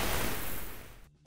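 A wind gust layer for an ice magic effect: a broad, steady rushing whoosh that holds loud at first, then gradually thins and fades before cutting off near the end.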